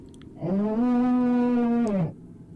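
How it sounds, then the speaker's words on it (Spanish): A deep, drawn-out bellowing roar with a rich harmonic tone rises, holds steady for about a second and a half, then drops away, loud and alone. "el terrible mugido volvió a estallar en medio de la nada"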